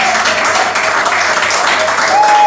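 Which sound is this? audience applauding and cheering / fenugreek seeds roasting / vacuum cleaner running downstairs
audience applauding and cheering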